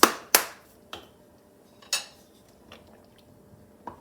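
A spoon stirs navy bean soup in a pot, making a few sharp metallic clinks and knocks against the pot, spaced out with quiet gaps between them and no talking.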